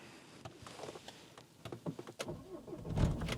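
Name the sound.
Renault Vel Satis diesel car engine starting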